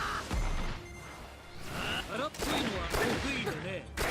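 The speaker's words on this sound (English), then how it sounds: "Just literally, I shoot dudes with my gun." Gunfire in the fighting video game Jump Force, loud bursts and impact blasts with voices talking over the action.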